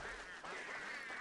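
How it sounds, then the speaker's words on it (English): Creepy duck quacking from the video game Don't Starve, a continuous wavering, nasal quack-like call that sounds close and clear, with no talking over it. "Oh, and there's the creepy duck noises"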